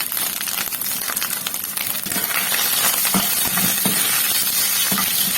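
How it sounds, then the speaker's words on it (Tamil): Grated coconut sautéing in hot oil in a pan for an egg kurma, a steady sizzle with frequent light clicks and scrapes of stirring. "முதல்ல தேங்காயை போட்டு நல்லா வதக்கிறேன்"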